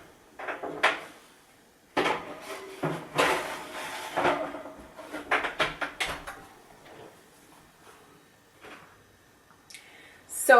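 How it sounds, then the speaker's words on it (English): Banana mini cakes on a tray go into a home oven, heard as a series of close clattering bumps and a scrape of metal, then a quieter pause and a final knock near the end, with no talking. "now I'm going to place these in the oven for 20 to 25 minutes"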